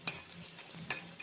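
Dried red chillies and onion sautéing in oil in a pan, a soft sizzle under a couple of sharp spoon clinks against the metal as the mixture is stirred, quiet and close.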